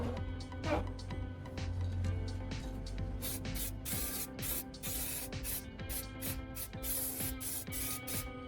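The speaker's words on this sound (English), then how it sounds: "I'm starting with several thin, even coats of black spray paint primer over the repaired area and the entire fender." Black spray paint primer hissing from an aerosol can onto a repaired plastic car fender in thin, even coats, a steady close spray broken by short bursts, with mechanical clicking and a faint hum behind it.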